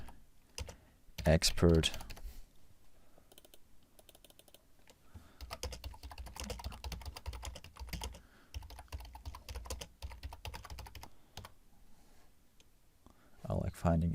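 Typing on a computer keyboard while composing blog text in a no-code blog app, a steady run of soft clicking keystrokes through the middle, with a person talking at the start and end.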